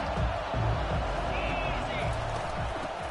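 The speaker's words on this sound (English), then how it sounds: "Big 3rd down as the crowd gets behind this defense." A stadium crowd in an NCAA 25 college football video game keeps up a steady, broad roar of cheering on a big third down, running continuously under a commentator's voice.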